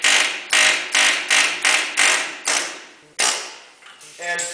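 Steel leaf spring shackle bushings on an IH Scout are pounded out with a hammer: about eight loud, sharp metallic blows in a steady rhythm, followed by a ringing clank and a fainter knock.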